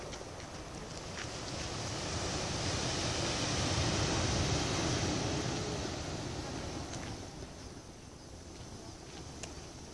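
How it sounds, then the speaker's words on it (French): Surf washes onto a beach at Cambaie on Réunion at sunset, a broad steady rush of waves swelling and fading with some wind buffeting the microphone. "On traverse la plage."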